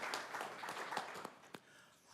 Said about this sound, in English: And you can clap for our values as well.